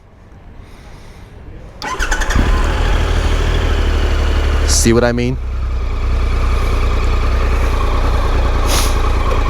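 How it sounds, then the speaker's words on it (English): A Triumph Tiger 1200 XCx Explorer motorcycle engine cranks and fires, then settles into a loud, steady exhaust note at close range with a brief rev, while a voice speaks over it. "let's hear the exhaust note"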